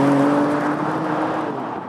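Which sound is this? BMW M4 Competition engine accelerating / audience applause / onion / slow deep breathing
BMW M4 Competition engine accelerating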